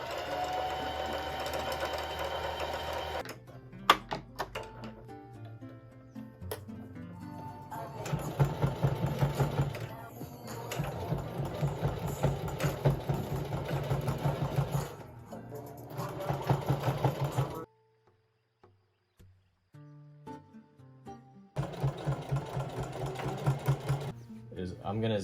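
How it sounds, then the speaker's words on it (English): A sewing machine zigzag-stitches the waist of vintage Levi's 501 jeans, running in several sustained mechanical bursts separated by short pauses, with one longer near-silent gap and talking heard between runs. "I'm gonna zigzag stitch this closed"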